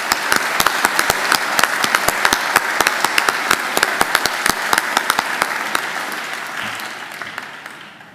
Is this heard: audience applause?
yes